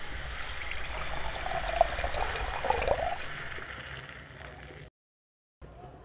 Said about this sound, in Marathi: आता आपण त्यात पाणी टाकू। एक तांबे पाणी टाकू आपण।